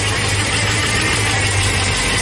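Twin Eaton M90 supercharged engine idling just after its first start, a steady broadband drone with a low hum running unchanged throughout, close and fairly loud with no talking.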